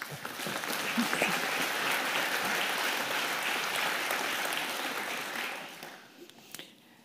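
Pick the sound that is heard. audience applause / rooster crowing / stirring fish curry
audience applause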